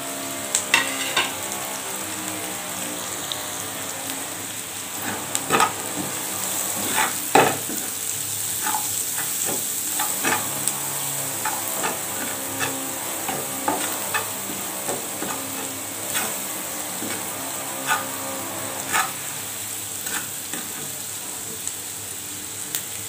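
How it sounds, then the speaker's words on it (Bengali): Onions and green chillies sizzle in a pan with turmeric and salt as they are stirred, a continuous fry broken by repeated scraping strokes of a spatula. "পেঁয়াজ আর কাঁচামরিচ হালকা করে ভাজা হয়ে গেছে। এখন আমি হলুদ গুঁড়া,"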